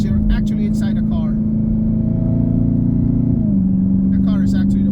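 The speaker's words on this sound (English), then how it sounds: "The car is actually the one making the noises" A Dodge Hellcat Widebody engine holds a steady, deep idle drone with a slight pitch drop near the end, loud and close, while someone talks over it at the start and end.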